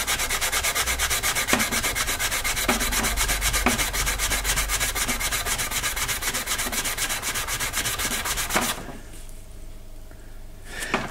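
A Brillo pad scrubbing rust off the hilt of an antique Bombay Horse Artillery sabre makes steady, rapid back-and-forth abrasive rubbing, close and loud, lasting several seconds before stopping abruptly into near quiet.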